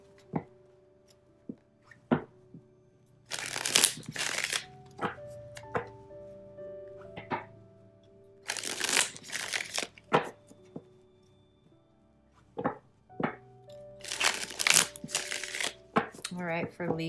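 Tarot and oracle cards shuffled in repeated loud riffling bursts, each lasting a second or two, separated by softer taps and handling sounds, with a faint steady tone running underneath.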